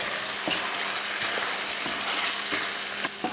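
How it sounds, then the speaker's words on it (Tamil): Egg curry sizzles steadily in a hot pan while being gently stirred for a Tamil Diwali non-veg lunch, an even hiss with soft periodic scraping strokes, close and continuous. "சும்மா லைட்டாக இந்த மாதிரி அந்த முட்டையில் அந்த குழம்பு வந்து இந்த மாதிரி பெரட்டுற மாதிரி பண்ணிட்டா போதும்"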